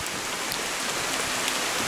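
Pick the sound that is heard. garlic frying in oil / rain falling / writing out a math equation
rain falling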